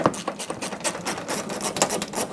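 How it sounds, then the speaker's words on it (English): A socket wrench ratchets out a 10mm fastener at the front bumper corner of a 2012-2018 Nissan Altima, making quick, close, evenly spaced clicks. "you can see a 10mm fastener that we have to remove. So grab a socket and take this out"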